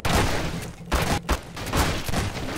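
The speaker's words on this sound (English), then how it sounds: "It's because you used a shotgun." Repeated shotgun blasts and gunfire in the Garry's Mod video game come as a dense, loud barrage with brief dips between bursts.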